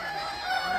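A desi rooster crows and clucks close by in a village while being chased and caught, a strained continuous call lasting under a second.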